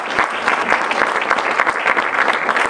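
Audience applause for a drama theatre company at an international comedy and satire theatre festival, a steady dense wash of many hands clapping throughout, loud and continuous with no talk.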